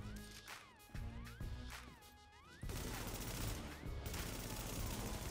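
Gunfire from headshots in The Division during a solo wave on Hudson Refugee Camp, repeated sharp shots over game music with faint talk, growing louder and denser partway through.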